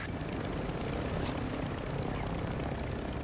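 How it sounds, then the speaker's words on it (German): A helicopter flies in the video game Call of Duty Modern Warfare 2, a steady loud rotor roar with dense beating chop filling the whole stretch without pause. "Wo ist denn der Heli? Oben am Dach."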